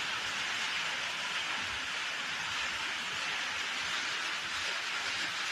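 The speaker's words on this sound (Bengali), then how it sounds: "বৃষ্টি নেমে পড়লো" Heavy rain pours onto a tin roof in a steady, dense, unbroken hiss of patter that holds an even level throughout, with no voices.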